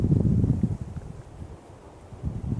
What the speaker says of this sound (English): it's pretty windy. Pretty windy indeed.